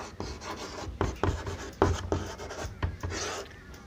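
Chalk or marker strokes on a board during a Class 10 chemistry lesson on chemical reactions, with short scratching and rubbing bursts in an uneven rhythm, close and fairly clear, without speech over them.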